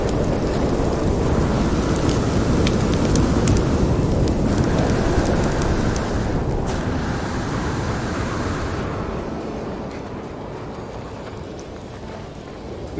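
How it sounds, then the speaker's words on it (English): A thunderstorm in the No Man's Sky video game, heavy rain roaring steadily with thunder rumbling through it, easing slightly toward the end. "we can survive the storm just for a little bit"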